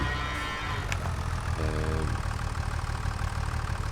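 Cows mooing in the farming game Farming Simulator 25 on the Zielonka map, one short lowing moo rising over a steady low hum of machinery, with a faint click before it.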